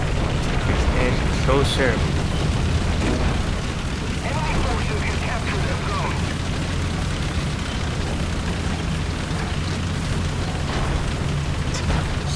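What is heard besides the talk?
tank cannon shots and explosions in War Thunder video game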